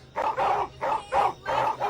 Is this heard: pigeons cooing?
no